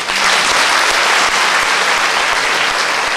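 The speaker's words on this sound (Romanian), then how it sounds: "Aplauze!" A crowd at a concert in Satu Mare bursts into dense, loud, sustained applause, an even wash of many hands clapping together throughout.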